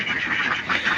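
Domestic ducks kept on a small egg farm quack loudly and close by, a steady overlapping chorus of nasal calls from several birds at once.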